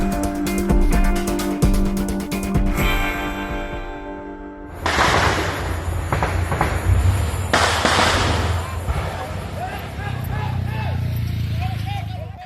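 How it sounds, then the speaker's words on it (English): Gunfire crackles at the contested Thailand–Cambodia border area, with bursts of sharp pops and rattling shots following a musical intro, loud and somewhat distant-sounding. "that's the sound of gunfire at Thailand and Cambodia's contested border area earlier"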